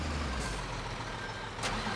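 A truck in the construction game Bau Simulator 2015 pulls away, a steady low engine rumble with broadband noise throughout, close and fairly loud, with two brief hissing bursts like air brakes partway through and near the end.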